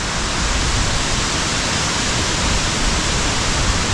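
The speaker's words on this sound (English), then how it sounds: "Hopefully you can hear me because this water's really loud." Water pours over an overflowing dam in the Elan Valley, making a loud, unbroken roar of rushing spray that fills the whole span without pause and drowns out everything else.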